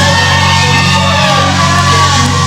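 Fans at a PCW Limelight wrestling event let out loud whoops and yells, a sustained crowd roar with a few long rising cries standing out.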